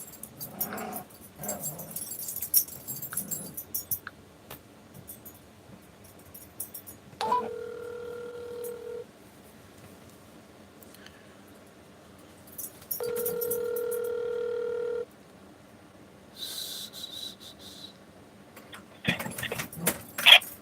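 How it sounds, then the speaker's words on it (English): A telephone call being placed, with two long steady ringback tones separated by a pause, plus faint rustling and brief handling noises at the start and end, heard close with no talking. "I'm going to make a quick phone call to him."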